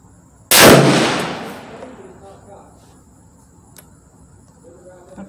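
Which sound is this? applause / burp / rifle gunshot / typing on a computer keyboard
rifle gunshot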